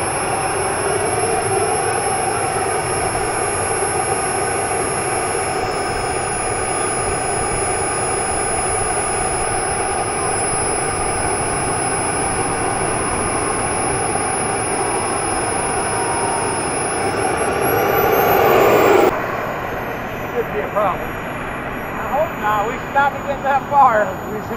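Model turbine jet engine running steadily at an open flying field, a loud continuous high whine and roar with a rising spool near the end before cutting back; people talk nearby.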